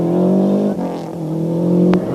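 An Opel Astra rally car on a 1993 European Championship stage in Cyprus revs hard and loud nearby, with a gear change dip midway before the engine climbs again.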